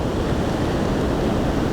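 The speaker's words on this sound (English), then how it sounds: "There's a batch of huge waves have just come in at the moment" Large ocean waves break on the rocks at the Bridges of Ross on the Loop Head Peninsula, a dense, continuous roar of surf and spray mixed with wind buffeting the microphone, with no talking.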